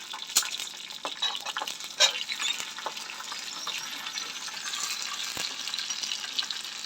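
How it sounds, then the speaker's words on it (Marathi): Green chillies and ginger strips sizzle in hot oil for a tempering, a soft continuous crackle with a few sharp clinks of a spoon against the pan near the start, close and with no speech. "मिरच्या थोड्याशा परतल्या गेल्या आपल्या की त्याच्यातच आपण हे अद्रकचे उभे लांब काप करून घेतलेले ते घालणार आहोत"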